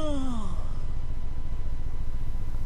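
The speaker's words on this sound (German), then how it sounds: "Gähnen ist ansteckend." A single drawn-out yawn sweeps downward in pitch and fades within half a second, followed by a steady low rumbling background from a game of Skyrim.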